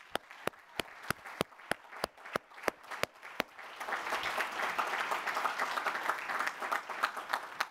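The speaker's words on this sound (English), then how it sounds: "everyone join me in applauding him" A few sharp, isolated claps in a conference hall, then the audience breaks into a sustained wash of applause for an inventor at a patents event, dense and fairly distant.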